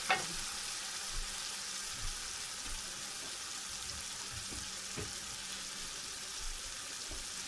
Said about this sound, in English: You want to stir it up, you don't want it to burn. You want it to fry through, but not burn.